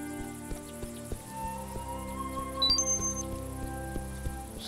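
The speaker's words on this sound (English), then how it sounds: "To wind stroking grass, cricket orchestras," Faint, steady chirping of crickets on an evening grassland in the video game A Juggler's Tale, a soft insect drone under low ambient tones and a brief bright electronic glint midway.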